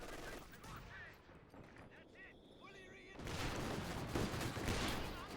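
MG42 machine gun fire in a competitive online war game match, rapid bursts of gunfire that swell louder in the second half, mixed with other battlefield shots while a commentator talks over it.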